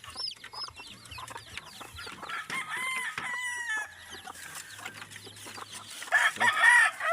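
Labuyo jungle fowl in a breeding pen give repeated crows and steady clucking, several birds calling close by with overlapping shrill crows toward the end.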